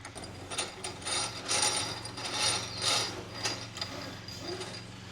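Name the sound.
rope feeding through a pulley system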